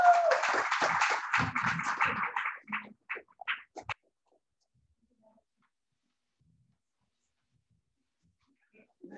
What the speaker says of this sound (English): Round of applause for Susan Weiman, everyone.